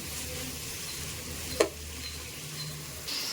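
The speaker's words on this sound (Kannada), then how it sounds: "ಸ್ವಲ್ಪ ಫ್ರೈ ಆಗ್ತಾ ಇದೆ ಇವಾಗ" Mint leaves frying in a pan for mutton biryani give a soft, steady sizzle, with one brief clatter midway.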